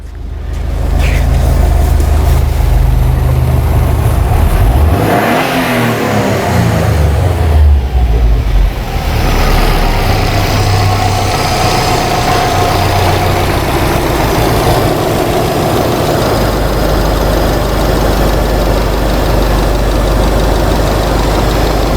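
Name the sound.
2008 Subaru Legacy engine revving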